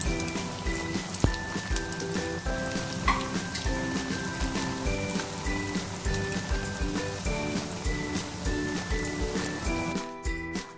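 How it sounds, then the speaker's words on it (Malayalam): Jackfruit seed vada frying in hot oil in a pan give off a steady, dense sizzle throughout, close and moderately loud with continuous crackling and no talk. "എണ്ണ ചൂടായി വരുമ്പോൾ അതിലേക്ക് ഓരോന്നായിട്ടിട്ട് വറുത്തെടുക്കാം."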